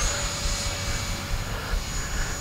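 A Freewing A-6 Intruder RC jet plane flies by during landing-flap passes, its steady broadband ducted-fan whine holding an even roar with a thin high tone running throughout, fairly loud and alone.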